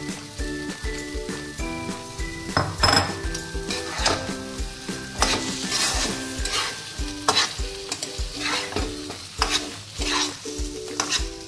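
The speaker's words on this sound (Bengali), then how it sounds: "এই যে এই মোচার ঘন্টটা এটা কষানো হয়ে এসছে। এবারে এই ডালের বড়াগুলো দিয়ে দিলাম।" Banana flower ghonto with lentil fritters stirred in a pan, a steady sizzle and fry under repeated scraping and clinking of a spatula against the pan, close and continuous with no talk.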